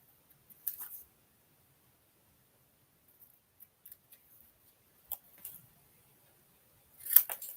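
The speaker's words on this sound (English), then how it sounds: "1, 2, and snip a bit off" Scissors snip through paper or card stock for a stamped greeting card, a few quiet, brief cuts spaced apart, with one crisper snip near the end.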